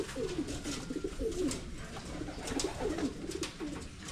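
Pigeons coo over and over during their bath time in a softly noisy outdoor setting. The warbling calls are close and moderately loud, with no voices heard.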